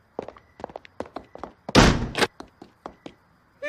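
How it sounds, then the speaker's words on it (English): A door pulled shut and locked, heard as a burst of close rattling and a heavy thunk amid a series of short knocking taps, then a brief tonal sound at the end. "He locked the door."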